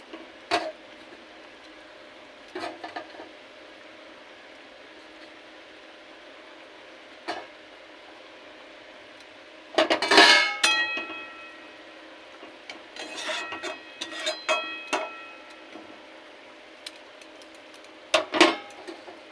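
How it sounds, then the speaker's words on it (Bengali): Eggs set into a pot of boiling water for steamed eggs: a few sparse taps, then a close burst of ringing metallic clinks and scraping, followed by scattered clatter and a final clink. "জলটা ফুটে গেছে এবার ডিমগুলো বসিয়ে দেবো"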